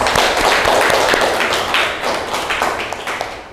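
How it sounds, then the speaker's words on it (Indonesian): Schoolchildren clapping in a classroom during an Indonesian lesson on the Wali Songo, a dense, close burst of many small hands clapping steadily for a few seconds. "Tepuk tangan anak-anak."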